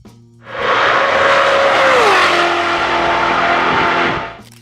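A 1990 Chevrolet Corvette ZR1 sweeps past at speed, a loud broadband engine and tire roar swelling in, holding for a few seconds with a falling pitch, then cutting away.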